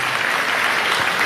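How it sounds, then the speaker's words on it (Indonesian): Loud, dense applause from a large church congregation fills the whole moment, a continuous wash of many hands clapping together during a sermon, with no break in the sound. "Kita berikan tepuk tangan dulu yang dahsyat."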